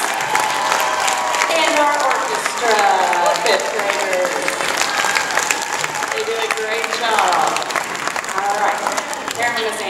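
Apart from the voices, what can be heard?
audience applause for school chorus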